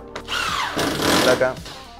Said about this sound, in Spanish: entonces seguimos atornillando